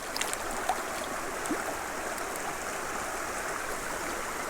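A small creek runs steadily past a tenkara fly-fishing spot where brown trout are caught, giving a soft, even wash of flowing water that stays faint and continuous with no talk.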